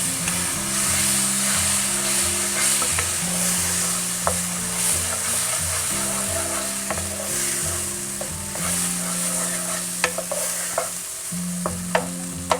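A spoon stirs egg and semolina halwa in a frying pan in a steady scraping rhythm over a continuous sizzle, with scattered sharp clicks of the utensil against the pan and no talking.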